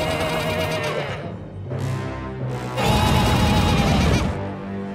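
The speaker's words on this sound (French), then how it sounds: "Ah, c'est une chèvre des montagnes." A mountain goat in a cartoon lets out a harsh, loud, strained cry, shown as a few bursts that swell and fall and sit close and alone over about five seconds.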